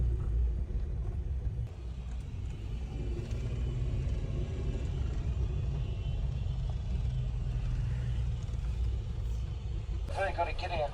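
A Hägglunds all-terrain vehicle crosses steep, rough terrain in New Zealand, heard from inside the cabin as a steady, heavy low rumble with rattling. Voices talk over it.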